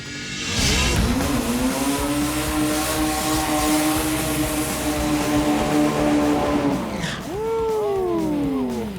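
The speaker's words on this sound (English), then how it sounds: "that was the most impressive burnout tonight" A Chevy S10 drag car does a burnout, its engine roaring in a loud sustained drone with squealing tires for several seconds before cutting off, then a short revving rise at the end; no one speaks.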